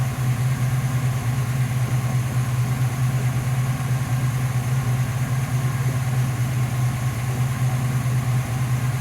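A Mustang's engine with a Street Demon 625 carburetor idles steadily while warming up, a constant low rumble with no changes in pace, loud and close, with no voices.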